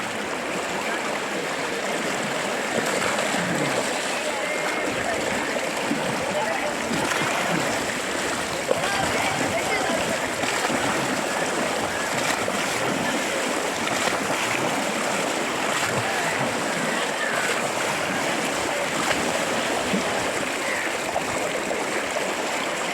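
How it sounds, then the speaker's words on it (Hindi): Fast-flowing river at the Saptarishi ashram where someone takes a dip, a continuous loud rushing roar of water that stays even from start to finish. "बहुत तेज प्रवाह है, एक डुबकी और आपके लिए"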